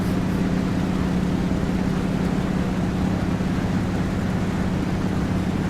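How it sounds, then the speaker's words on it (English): An A2A T-6 Texan trainer's radial engine in Prepar3D flight simulation gives a constant, loud, low droning rumble, steady throughout with no voices. "I can hear that rumble of that engine again."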